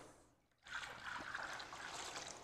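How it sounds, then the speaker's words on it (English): Water is poured into the reservoir of a desktop hydroponic NFT system to top it off, a steady splashing trickle starting after a brief quiet pause and continuing, faint and close, with no talk. "you're going to add another 1/2 gallon of water to top off the system"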